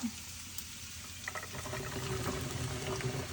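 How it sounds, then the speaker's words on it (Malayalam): Long beans tumble into a pan of softened onions, setting off a steady, moderately loud sizzle and rustle that persists to the end with no speech. "ഇനി ഇതിലേക്ക് നമുക്ക് നമ്മുടെ പയർ ഇട്ട് കൊടുക്കാം"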